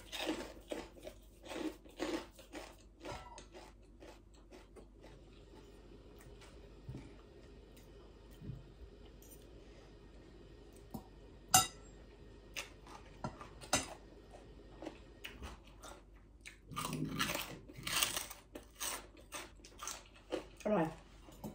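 Close chewing and crunching of Korat-style som tam, khanom jeen with chicken curry and charred roasted pork ribs, with soft clinks of cutlery and dishes and quiet talk in between.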